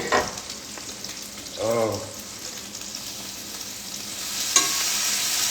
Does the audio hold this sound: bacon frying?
yes